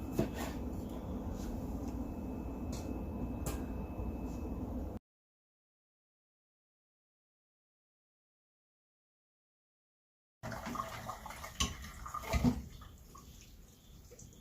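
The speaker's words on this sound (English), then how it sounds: "So I'm going to rinse it down with cold water to make it stop cooking." Cold tap water runs steadily over cooked pasta while it is rinsed for a pesto pasta dish. There is a continuous splashing rush, a few seconds of silence, then more uneven running and splashing nearby.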